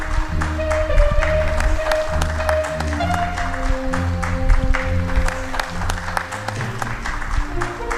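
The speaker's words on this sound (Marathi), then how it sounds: "जोरदार टाळ्या वाजवा." Audience applause at a Chhatrapati Sambhajinagar Zilla Parishad award felicitation ceremony, loud sustained clapping from a crowd over a steady musical tone, continuing throughout without talk.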